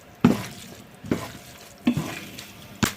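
Soba noodles being stir-fried in a pan with spices and chili paste, four distinct stirring scrapes and sizzles spaced about a second apart, close and moderately loud, with no talking.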